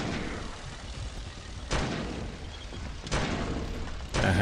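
Cannon fire in the tank battle game Gerand Tanks, three or four heavy booming shots spaced about a second apart over a low rumbling background.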